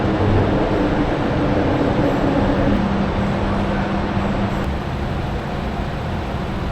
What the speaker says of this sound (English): Look at the train up there